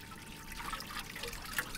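Hot water trickles and dribbles out of the drained heat exchanger on a supercharged SLK320 car, a soft, close, continuous liquid flow with small splashes and no talk.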